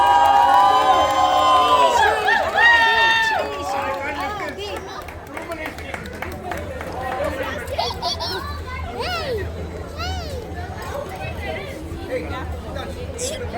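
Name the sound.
crowd cheering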